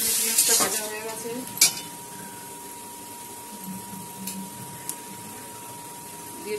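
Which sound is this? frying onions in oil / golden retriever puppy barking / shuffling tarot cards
frying onions in oil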